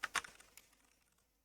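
Typing on a computer keyboard while searching in a web console: a few quick, soft key clicks at the start, then fainter scattered taps trailing off in a quiet room.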